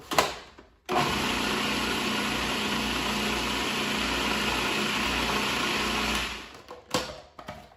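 A food processor runs chopping whole garlic cloves, starting abruptly and whirring loud and steady for about five seconds before stopping, followed by a few clunks.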